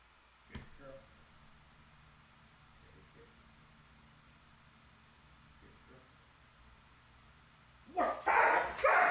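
A Doberman puppy barks in a short burst near the end of a sport obedience training session, loud and close after a stretch of quiet with only a faint thump early on.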